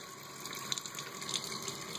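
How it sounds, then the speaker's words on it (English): Water pours into a metal can in a steady, faint stream for about two seconds, a soft trickling splash heard alone. "I'm going to begin by filling this can with a little bit of water."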